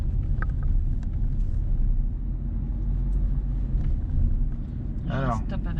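A car rolls slowly along city streets during a driving lesson in Bobigny, a continuous low engine and road rumble under steady conversation between people inside.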